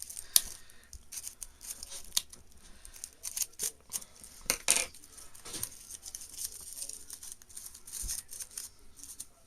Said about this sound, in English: We're going to cut our loops because I want it to be a little whimsical and a little wonky.